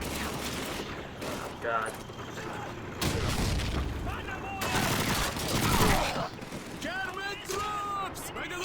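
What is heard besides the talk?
machine gun fire in video game Call of Duty 2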